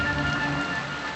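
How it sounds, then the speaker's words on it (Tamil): Rain falls steadily beside a highway at night, a dense continuous patter of drops heard close and fairly loud, with no talk over it. "மழை வேற அதிகமாகுது."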